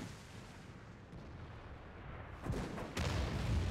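In the World of Tanks video game, an artillery piece fires, giving two muffled booms close together near the end of an otherwise low, quiet background rumble.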